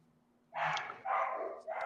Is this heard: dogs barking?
yes